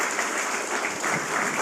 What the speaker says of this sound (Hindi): अगर मैं सही हूं तो सब तालियों से बता दो मुझे,